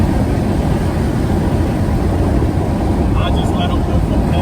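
A 1992 BMW 535i with a 3.5L engine and a loud aftermarket exhaust, accelerating hard from around 90: a steady, heavy drone of engine and exhaust with road and wind noise, heard from inside the car with people talking over it.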